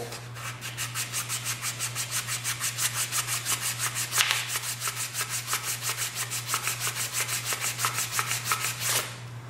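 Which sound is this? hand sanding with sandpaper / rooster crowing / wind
hand sanding with sandpaper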